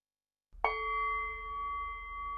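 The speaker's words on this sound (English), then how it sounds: "listen to the great bell chant of Thich Nhat Hanh" A large temple bell used in a Buddhist chant is struck once after a moment of silence, giving a sharp strike that rings on in a long, steady, humming resonance.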